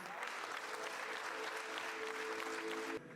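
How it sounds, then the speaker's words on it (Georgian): An audience applauds children after the premiere of a school youth centre theatre performance: dense, steady clapping from a full hall fills the room, then cuts off abruptly near the end. "აპლოდისმენტები ამ საოცარ ბავშვებს"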